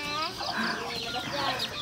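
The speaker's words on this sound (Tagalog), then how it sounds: "Dami nilang alagang manok." Free-ranging farm chickens at a rural home in Palawan, Philippines, cluck softly in a short burst, with a faint rooster-like call and light background noise.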